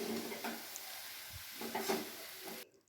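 Vegetable chowmein with cabbage, carrot and peas stir-frying in oil, a soft continuous sizzle broken by a few scraping and tossing stirs of the spatula, then cutting off abruptly near the end.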